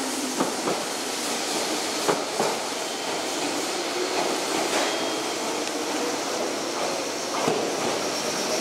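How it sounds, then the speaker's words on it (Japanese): A Meitetsu 6800 series train rumbles steadily through Kanayama Station, with rhythmic clacking of wheels over rail joints and a broad, continuous roar. "山手線通過電車をお注意ください。"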